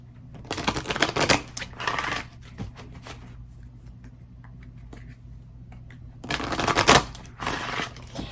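Tarot cards being shuffled in two brisk flurries of riffling and flicking, close and crisp, separated by a quieter stretch of soft handling.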